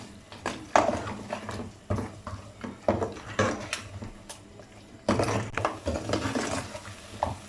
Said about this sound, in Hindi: दो से 3 मिनट के लिए दोबारा भून लेंगे।